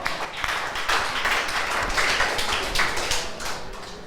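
Audience in a church clapping together, a steady dense patter of hands sustained for about four seconds, fairly close and with no voices over it.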